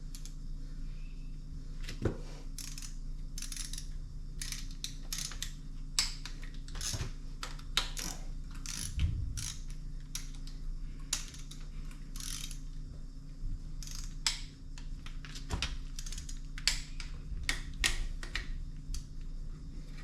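Ratchet clicks in quick bursts as intake manifold bolts are tightened on a Duramax diesel engine in a workshop, close and steady with short pauses between runs of clicking.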